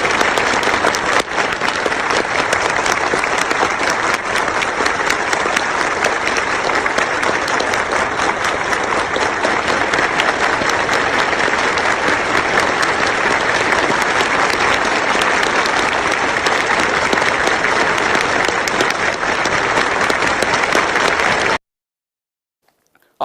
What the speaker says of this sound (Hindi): ताली बजाकर पूरा यूरोपियन यूनियन खड़ा होकर दोस्तों स्टैंडिंग ओवेशन देता है।